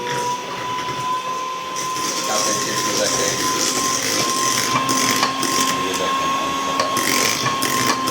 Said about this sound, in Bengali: এখন আমি ডিমটার সাথে ওইটা ফেটবো। ঠিক আছে, এই আমি চালু করে দিলাম।